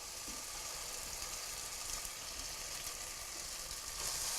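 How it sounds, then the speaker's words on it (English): Spoonfuls of corn fritter batter go into hot frying grease, giving a constant, even sizzle and hiss close by, without speech. "And you just carefully put them into the hot grease."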